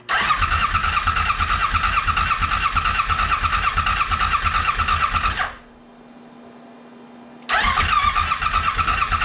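A flood-damaged Yamaha Wolverine X4 side-by-side engine cranks steadily and loudly without catching, pauses for about two seconds of near silence, then resumes cranking, all up close with no talking.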